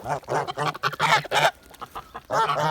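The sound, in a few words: geese honking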